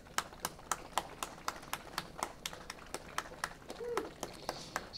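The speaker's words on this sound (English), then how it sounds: "Big round of applause" Applause for the pole-position driver at an RC car race, a modest round of clapping with distinct individual claps in a steady, fairly sparse rhythm, with a voice briefly heard partway through.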